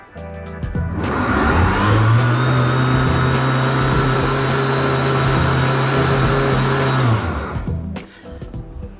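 A blender on its high setting blends pumpkin soup, spinning up and holding a loud, steady whirring roar for several seconds before winding down and stopping.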